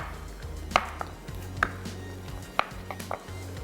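Tomatoes sliced in a Vegetable Deluxe vegetable slicer give a few sharp, separate chopping knocks spread over a few seconds, close by, over steady kitchen background music.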